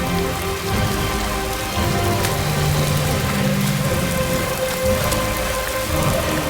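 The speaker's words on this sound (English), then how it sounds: "it's really raining out here" Heavy rain pours steadily onto surfaces, a dense continuous hiss with scattered drops and a low rumble underneath.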